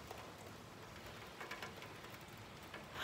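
Graupel, soft hail or snow pellets, falling over Lille during a March shower, as a steady, faint, dense patter of tiny pellets with no clear gaps.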